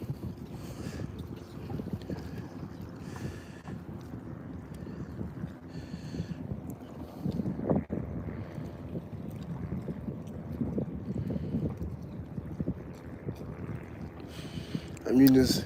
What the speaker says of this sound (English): but the wind is cutting right now.